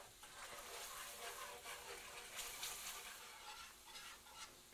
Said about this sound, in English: add 1 1/3 cups of beef broth. Get this whisked in really well